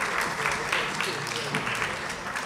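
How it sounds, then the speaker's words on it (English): Audience clapping for students at a school graduation ceremony, a steady dense patter of many hands filling the hall throughout, fairly loud with no gaps. "You can applaud the students."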